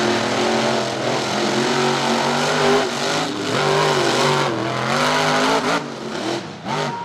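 Two monster trucks, Quad Chaos and Hook, rev loudly at the starting line of a rallycross race at Charlotte Motor Speedway, their big engines rising and falling in continuous, overlapping roars.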